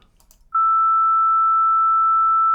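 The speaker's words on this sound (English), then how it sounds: "I can start with a little sine wave" After a brief quiet moment, a steady, pure electronic tone switches on and holds at a constant pitch and loudness until the end.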